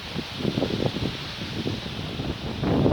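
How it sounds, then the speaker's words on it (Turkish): Gusty wind buffets and rumbles past, rising and falling in low bursts, with a stronger gust near the end. "Gerçekten çok güzel bir rüzgar esiyor"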